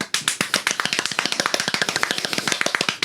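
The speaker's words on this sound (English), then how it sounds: "Angry claps." Rapid, forceful hand clapping in a fast, even stream of sharp claps lasting a few seconds, close and loud, with no talk.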